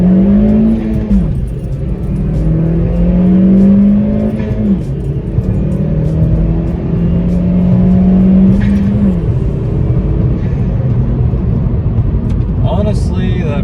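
A Chevy Sonic RS 1.4 Turbo with a Trifecta tune accelerating hard on a straightaway, loud engine revs climbing through gears with brief dips at each shift, heard from inside the car.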